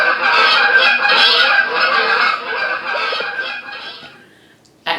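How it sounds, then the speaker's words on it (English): A flock of geese honks in a dense, overlapping chorus for several seconds, loud and close, then thins out and fades toward the end. "And that's geese."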